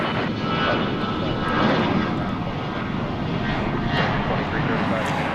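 A steady, broad roar of an aircraft engine at DFW Airport, loud and continuous, with a voice talking beneath it.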